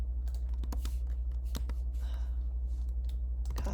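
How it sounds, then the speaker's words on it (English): Computer keyboard typing while filling in an order form: irregular bursts of close, crisp key clicks over a steady low electrical hum. "We'll type that in."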